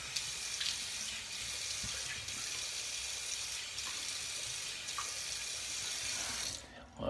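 A bathroom tap runs steadily into a sink while a face is rinsed after a shave with a Parker 26C double-edge safety razor, a soft constant hiss broken by faint splashes, ending with the water shutting off.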